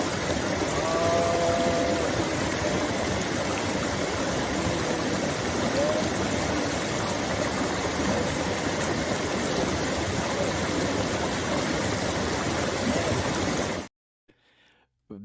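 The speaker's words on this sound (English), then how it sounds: "the sound of the stream was quite loud" Loud mountain stream of very cold water rushes steadily and continuously as a dense, close roar for about fourteen seconds, then cuts off abruptly into near silence.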